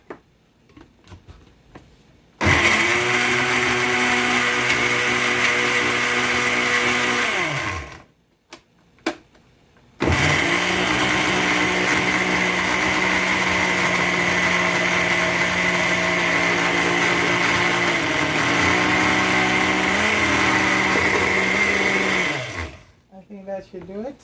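Electric chopper chopping cassava in a home kitchen, a loud whirring motor buzz running in two long bursts separated by a short pause, close and continuous.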